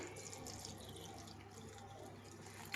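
A little water poured into a mixer jar of masala ground with mint for a peas sambar, a soft, quiet splashing trickle lasting a few seconds with no talk.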